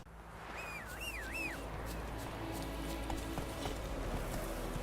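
Roach the horse's hooves clip-clopping steadily at a walk in The Witcher 3 open-world game, soft and even against quiet ambient backdrop and brief birdlike whistling.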